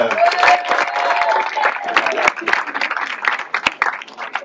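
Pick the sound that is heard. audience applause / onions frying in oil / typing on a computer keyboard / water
audience applause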